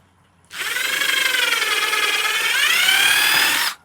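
A power drill bores a small pilot hole for mounting a bird feeder, its motor whining steadily and close for about three seconds before stopping abruptly.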